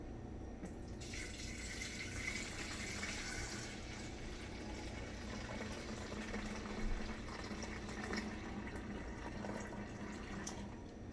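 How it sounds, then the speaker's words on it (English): About a liter of grape-cherry juice is poured for making wine, producing a faint, steady rushing stream of liquid with no talking. "So we're going to be putting in about 1 liter of the juice right now."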